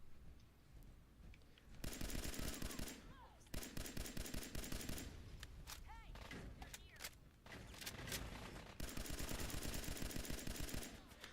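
Rapid semi-automatic gunfire in Fallout 4, fired by spamming the trigger, comes as dense loud bursts of shots with short gaps between volleys.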